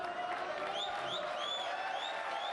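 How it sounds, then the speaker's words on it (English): Steady crowd applause in a snooker arena before the deciding frame of the Saudi Arabia Masters final between Judd Trump and Mark Williams, a continuous even wash of clapping with faint whistle-like tones above. "They're getting good applause here ahead of the decider"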